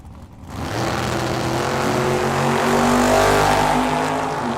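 A Datsun 240Z and a Camaro launch side by side in a drag race, engines roaring up loudly and holding a sustained, rising drone that dominates the scene at close range.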